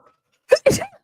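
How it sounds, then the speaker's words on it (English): A single sharp sneeze, a quick intake followed by a loud burst, close to the microphone with silence around it. "I have to sneeze"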